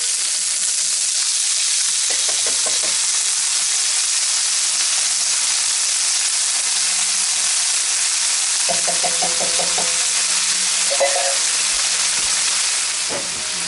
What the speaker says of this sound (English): So now it's time to add the corn.